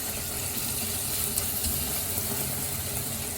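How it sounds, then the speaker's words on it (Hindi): Brinjal and tomatoes cook with spices in a pan, giving a soft, even sizzling hiss close by, fairly quiet and steady, with a faint thump partway through and no speech. "ये टमाटर उसके साथ ही भुन जाएंगे।"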